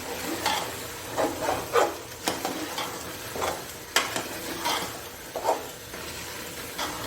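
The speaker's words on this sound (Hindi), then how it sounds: "बस इसको थोड़ा सा मैंने भूनना है ताकि जो ऑयल है वो ऊपर आ जाए" Spice masala for chicken pulao stirred and fried in hot oil, with soft sizzling and repeated scraping strokes of a spoon across the pan, steady and close, no talking.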